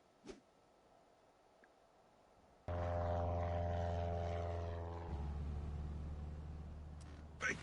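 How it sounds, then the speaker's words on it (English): A chartered propeller airplane in the Lego Jurassic World game drones steadily over Isla Sorna, its engine hum starting abruptly and holding loud and close, then shifting pitch partway through. "I've chartered an airplane to fly us over Isla Sorna"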